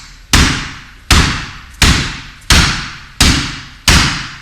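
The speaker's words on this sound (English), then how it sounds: "because the second sound is a thud. You hit it in and it crashes" Heavy strikes land on a Wing Chun punching bag, six loud close thuds at a steady pace, each a full-bodied crash that rings out briefly before the next blow, with no talking.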